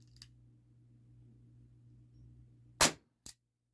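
A Beretta M84 FS 4.5mm CO2 air pistol fires one sharp, loud, close shot over a low steady hum, then a shorter second click or report follows a moment later.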